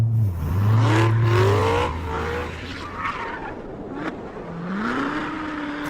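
A 2016 Chevrolet Corvette Z06 sports car lapping a racetrack, its engine note rising and falling through gear changes, loud and close at first, then easing off before building again, with no talk.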